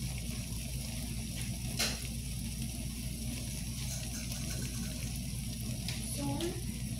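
Water runs steadily from a kitchen tap while a macaroni tuna salad is being made, a continuous close hiss with faint voices underneath.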